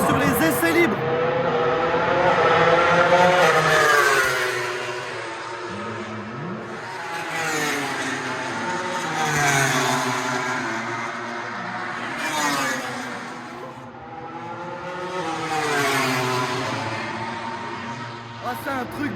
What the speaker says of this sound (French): J'ai jamais entendu des motos aussi bruyantes.